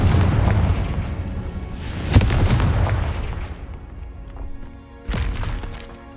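A Confringo blasting spell bursting in Hogwarts Legacy, a loud booming explosion with rumbling decay, a sharp crack midway and a second blast near the end, close and forceful.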